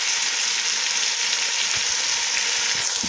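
Tomatoes and whole green chilies fry for beef yakhni pulao with a steady, loud, hissing sizzle that holds evenly throughout and carries a few faint stirring touches. No voices are heard.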